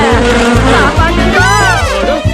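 Giant cartoon mosquitoes buzz loudly and continuously, their whining drone rising and falling in pitch close by over a pulsing low hum, with no speech.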